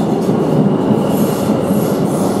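A New York City subway train rides along, a loud, steady rumble of wheels on rails with a faint metallic squeal from the tracks, heard from inside the car.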